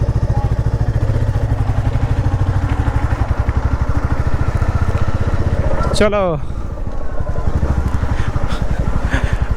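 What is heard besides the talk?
motorcycle being ridden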